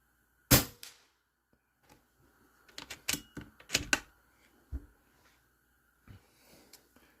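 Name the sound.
Air Venturi Avenge-X PCP air rifle shots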